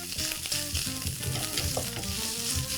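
Minced meat and onions sizzle and fry steadily in a pan, a dense crackling hiss with occasional stirring scrapes, close and alone without voices.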